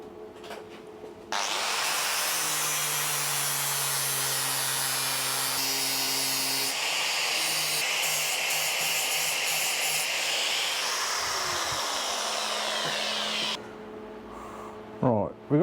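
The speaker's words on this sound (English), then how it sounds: "we'll grind a bit, try it, grind a bit, try it until it drops in there nice." An angle grinder shapes a metal part of a custom seat for a Suzuki GS motorcycle in one long, loud, continuous grinding run that shifts in pitch as the tool bites into the piece, ending in a brief clatter.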